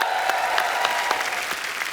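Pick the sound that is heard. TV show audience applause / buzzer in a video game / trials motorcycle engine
TV show audience applause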